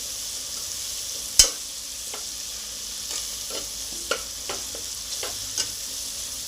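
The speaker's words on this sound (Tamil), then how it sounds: "இப்போ புதினா, கொத்தமல்லி, கருவேப்பிலை 3 போட்டுக்கலாம். போட்டு நல்லா மிக்ஸ் பண்ணிக்கலாம்" Mint, coriander and curry leaves being stirred into softened tomatoes frying in a pan for nombu kanji: a soft sizzle underneath, one sharp utensil knock, then several lighter scrapes and taps.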